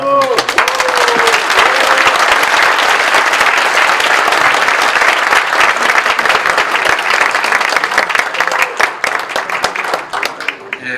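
Sustained, loud applause from a church presbytery assembly, steady for about ten seconds after elders unanimously elect a new presbytery moderator, with a few voices faintly audible beneath the clapping.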